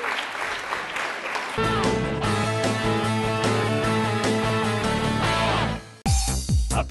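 A studio audience on a Catalan TV word quiz show gives short applause that is quickly joined by loud show music and a jingle, with the clapping partly buried beneath it.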